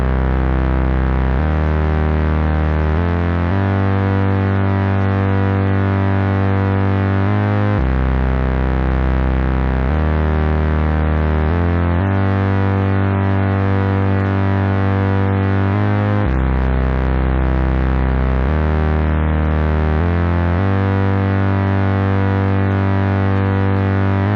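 A square wave runs through a Moogerfooger ClusterFlux with positive feedback, giving a dense, distorted, continuously droning buzz that shifts pitch in regular steps for over twenty seconds, loud and with no talking.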